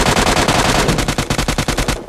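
An MK14 rifle fires a rapid, continuous burst in PUBG Mobile Lite, loud and close, with evenly spaced sharp shots in quick succession, the pace slowing slightly toward the end.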